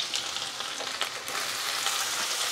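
About an inch of grated ginger fries lightly in hot oil, a steady close sizzle broken by soft stirring scrapes and occasional spits.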